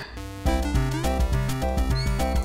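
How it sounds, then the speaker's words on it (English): A butterfly wisp effect in the video game Pony Island: a loud, dense burst of stepped, chiming electronic tones with a brief quiet lead-in, then a fast irregular pattern of notes. "the butterfly wisp sound."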